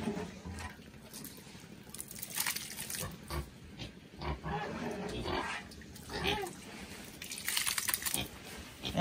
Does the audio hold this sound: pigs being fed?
yes